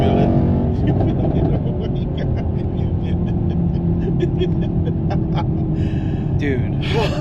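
A Mercedes-AMG E 63 S Wagon accelerates hard from inside the cabin, a loud, steady engine roar filling the whole stretch with brief clicks and a sharp gasp over it; someone reacts audibly but no words come through.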